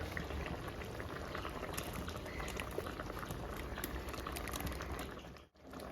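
Kerala-style kera fish curry masala bubbles in a pan until the oil separates at the edges, a dense, steady close-up simmering crackle that dips briefly near the end.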